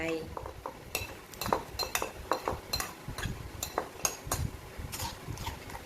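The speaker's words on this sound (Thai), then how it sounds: "คนให้เขาเข้ากันนะคะ" Seafood dipping sauce being stirred in a bowl to combine: a spoon repeatedly clinks and scrapes against the sides in quick, uneven taps, close and moderately loud, with a voice speaking faintly.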